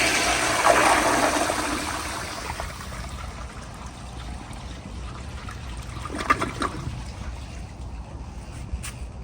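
A 1980s American Standard Afwall commercial toilet flushes with a strong opening rush of water that tapers into a steady trickle and bowl refill, close and fairly loud, a few clanks near the end.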